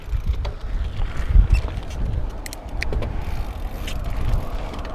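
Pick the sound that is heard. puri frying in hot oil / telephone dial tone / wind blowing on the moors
wind blowing on the moors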